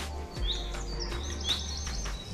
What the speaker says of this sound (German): Die Vögel.